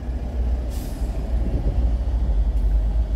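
A vehicle on the road to Clark brakes suddenly, giving a short pneumatic hiss over a low, rumbling engine, then a second brief hiss a couple of seconds later.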